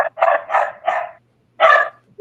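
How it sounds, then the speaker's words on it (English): Small dogs bark in short, bright bursts, about four quick yaps followed by a pause and another bark, close by with a faint low hum underneath. "whose cute little dogs are those?"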